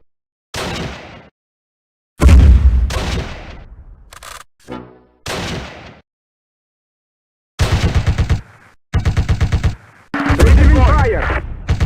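Gunfire bursts in the Close Combat war game come in separated volleys, some sharp single cracks and some rapid rattling strings, loud and close with silent gaps between them.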